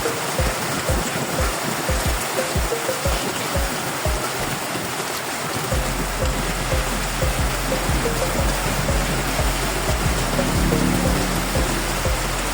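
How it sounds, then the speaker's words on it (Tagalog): Heavy rain pours steadily in a dense, continuous roar during the rainy season, with rapid drips and patters hitting a raincoat surface throughout. "ang lakas ng ulan"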